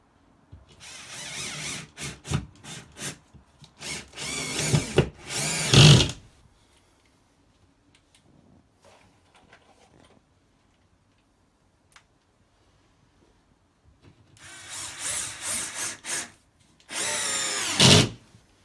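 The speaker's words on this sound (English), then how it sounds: "I'm screwing these plasterboards up using 50mm plasterboard screws." A power drill drives 50mm plasterboard screws into a ceiling in loud, close whirring bursts with stop-start trigger pulses, a long quiet pause with faint ticks in the middle, then two more screwing bursts.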